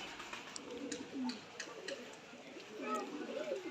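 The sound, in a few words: pigeons cooing, a pair of Indian red pigeons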